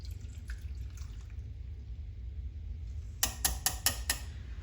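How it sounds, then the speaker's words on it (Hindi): Fennel water being strained for a lemon-mint summer drink, heard as a quick cluster of five or six crisp pouring splashes and drips near the end, after a few seconds of quiet kitchen room tone. "अब यहाँ पे सौंफ का पानी है, इसको छान लेंगे।"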